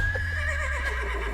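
A horse whinnies in a long, wavering neigh heard alone at close range over a steady background hum, with a thin tone running underneath.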